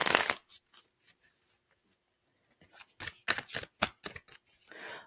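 A Labyrinth tarot deck is shuffled and handled up close, with a sharp riffle at the start, then light taps and a quick run of crisp card flicks near the end.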